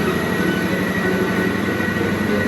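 A steady, heavy rumble of a toy-like cartoon train engine pulling screeching wagons along the tracks, with a continuous thin metallic whine from the wheels, constant and close.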